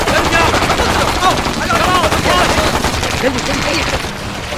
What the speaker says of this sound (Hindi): गोली चलाते रहो